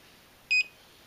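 A battery management system sounds its overcharge alarm on an EVE 280K LiFePO4 battery bank with a JK BMS 8S 200A board: one short, clear electronic beep, alone against faint background hiss.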